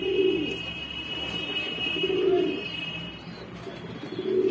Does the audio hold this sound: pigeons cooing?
yes